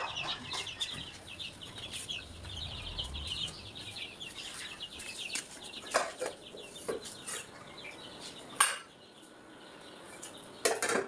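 Chickens on a home farm fuss restlessly in the morning, giving continuous overlapping clucks and chirps with a few sharper, louder calls standing out near the end. No one speaks.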